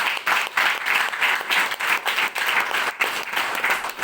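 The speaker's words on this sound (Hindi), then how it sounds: "जोरदार ताली होनी चाहिए।" Audience applause at a business plan meeting, loud dense clapping from a crowd, pulsing in quick uneven waves for a few seconds with no voices.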